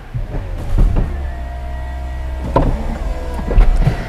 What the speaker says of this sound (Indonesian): mekanisme atapnya agak sedikit berisik sih